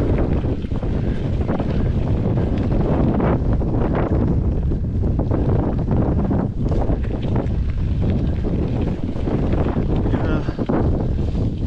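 Strong wind on a mountain climb in the Sierra Nevada buffets the microphone in a constant loud roar with gusting rumble, and a voice speaks faintly underneath.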